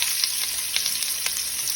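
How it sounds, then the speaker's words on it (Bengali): Onion, garlic and ginger fry in hot oil with whole spices like cloves, cardamom and cinnamon, giving a loud, close sizzle with quick crackling bursts and stirring scrapes, no talking. "পেঁয়াজ রসুন আদা এটা একটু ফ্রাই হওয়ার পর"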